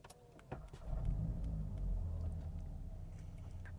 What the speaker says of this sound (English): And you can see the engine fires right up